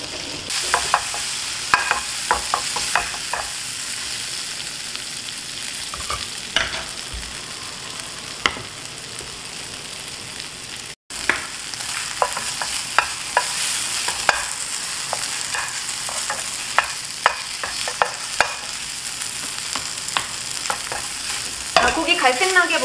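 Flour-coated beef chunks brown over high heat in a pan for beef stew, a steady bright sizzle with frequent scraping and stirring clicks from a utensil, close and continuous without talk.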